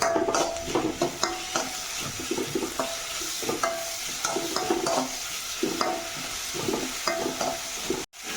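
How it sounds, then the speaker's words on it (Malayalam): Tomatoes fried in a pan and stirred steadily, a continuous close sizzle under repeated scraping and clinking strokes of a spoon against the pan, ending in a brief drop-out. "ടൊമാറ്റോ ഒന്ന് ഇത്തിരി ഡ്രൈ ആവണ വരെ ഒന്ന് ഇളക്കിക്കും"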